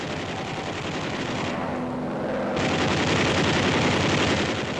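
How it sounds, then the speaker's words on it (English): Fifty-caliber incendiary rounds fire from the waste guns of a B-24 bomber during a low-level attack on a refinery, heard as a loud, continuous rattling roar of machine-gun fire that holds steady throughout, with no talking. "The waste guns use 50 caliber incendiaries to start fires."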